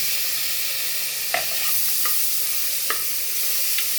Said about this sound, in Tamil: தக்காளியும் போட்டு நல்லா கொஞ்சம் வதக்கி விடுங்க